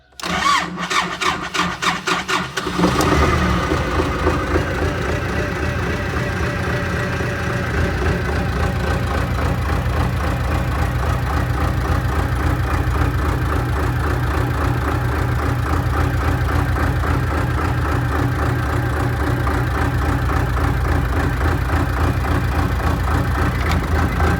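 An MTZ-80 tractor's diesel engine cranks with rapid stuttering turns for a few seconds, catches and then settles into a steady, loud, rhythmic idle that carries on to the end.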